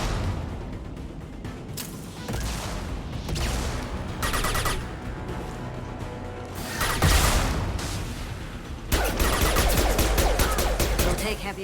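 Dense bursts of sci-fi weapon fire crackle through a Mass Effect 2 firefight, loud and near, in repeated volleys and rapid automatic streams, with a faint voice now and then.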